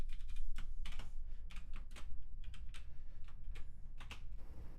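Irregular clatter of keys on a computer keyboard during JavaScript coding, fairly close and quiet, with quick bursts of taps and short pauses.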